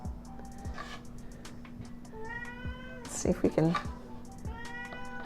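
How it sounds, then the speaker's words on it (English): A house cat meows several times close by, drawn-out rising and falling calls with one louder, harsher cry in the middle, while someone talks softly between them. "that's my cat."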